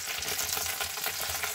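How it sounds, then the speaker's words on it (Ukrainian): Chicken legs browning in a hot frying pan give a steady, dense sizzle and crackle, close and continuous, with no voices. "і присмажую зі всіх сторін до золотистого кольору"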